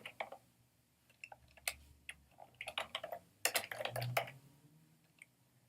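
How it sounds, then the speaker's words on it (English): Keys clatter on a computer keyboard in irregular quick bursts of close, crisp clicks, alone with no talking, as words are typed into a search field. "So when I start typing in words, it should give me options here."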